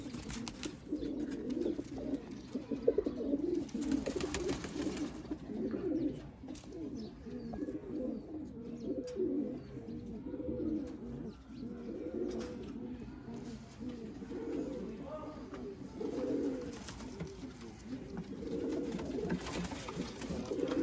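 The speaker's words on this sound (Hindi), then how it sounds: "ये देखें दोस्तों सियालकोटी कबूतर" A flock of Sialkoti pigeons cooing continuously, soft overlapping throaty coos and burbles forming a steady, low murmur.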